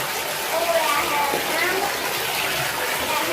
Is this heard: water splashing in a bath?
yes